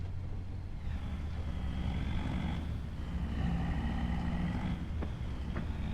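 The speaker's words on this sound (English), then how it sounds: "There is traffic on this road." Road traffic in Farming Simulator 25 drones steadily, a low engine hum with passing vehicle whooshes and faint higher whines layered over a constant rumble, moderately quiet and unbroken by voices.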